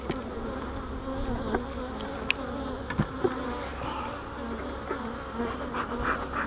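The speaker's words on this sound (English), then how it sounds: "This is full of bees" Dense, steady buzzing of many bees packed inside a beehive full of frames, a continuous close hum with a few brief louder passes of individual bees near the listener.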